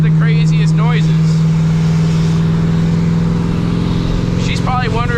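A supercharged C6 Corvette, around 800 horsepower, cruises with a loud, steady low engine drone and rushing air throughout, while a person talks over it.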